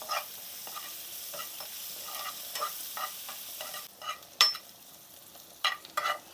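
Butter garlic chicken fries in a pan with crushed chilli added, giving a soft, steady sizzle broken by intermittent scraping stirs and a few sharper clinks near the end, with no voices.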